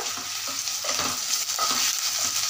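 Mushroom manchurian ingredients sautéing in a pan, a steady broadband sizzle with soft stirring scrapes running through, close and continuous with no talking.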